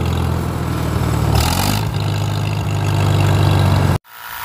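A Farmall M tractor engine runs loudly up close with a steady, throbbing low beat and a brief rise in revs partway through, then cuts off abruptly near the end, with no talk.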